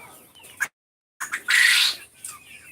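Chickens and quail in a backyard coop after heavy rain give short squawks and chirps, one loud harsh squawk in the middle, close by with a brief silent gap.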